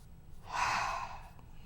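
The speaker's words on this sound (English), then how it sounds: "take a deep yogic breath" One deep yogic breath flows out slow and airy, swelling over about a second and then fading, soft and close with no other sound around it.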